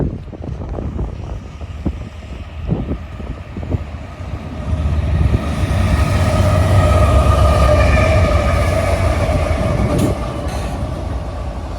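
A CSX freight train with its locomotive rumbles past on the former L&N line, a loud, steady roar of rolling cars and wheels building and holding, with heavy wind buffeting the microphone and no talking.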